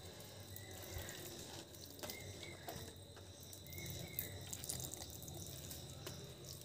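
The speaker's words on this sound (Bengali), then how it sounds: "যে কটা বসালাম এখন সেই কটাতেই জল দিচ্ছি।" Water trickles and drips faintly onto newly planted flower plants outdoors, with soft patter in the soil and crickets and birds calling in the background.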